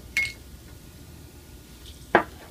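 Two sharp clinks of metal against cookware, a couple of seconds apart, over a faint background hum.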